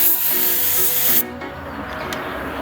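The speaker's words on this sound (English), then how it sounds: "You fog a coat of preparation, that way the material gets pretty good just to the panel" A spray gun fogs a coat of preparation onto a panel, giving a steady loud hiss that cuts off abruptly partway through, leaving a quieter airy hiss and room noise.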